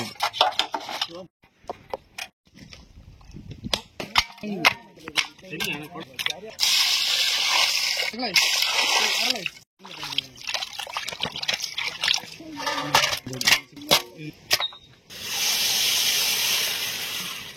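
Rice is washed in water in an outdoor forest cooking setting, with repeated trickling, sloshing and pouring under occasional clinks of a metal pot, loud and close.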